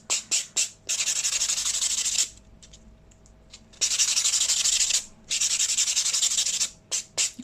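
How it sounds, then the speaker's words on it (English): A nail file rasps back and forth across fingernails in quick short strokes, then longer steady scraping passes separated by brief pauses, close and clear with no talk. "I'm just letting the file sort of do the work for me"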